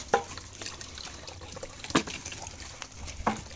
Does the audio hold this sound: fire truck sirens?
no